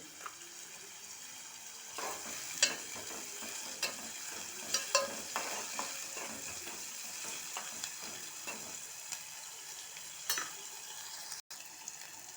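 Okra and garlic fry in a pan, a steady close sizzle running throughout with scattered spatula scrapes and clinks as the pieces are stirred; no voices.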